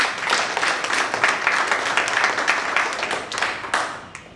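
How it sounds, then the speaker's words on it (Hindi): An audience at an insurance sales seminar applauds to thank a speaker, a dense, steady burst of many hands clapping in a hall that lasts a few seconds before tapering off. "उनको जरूर भी जोरदार तालियों से उनका जो है थैंक यू हमें करना"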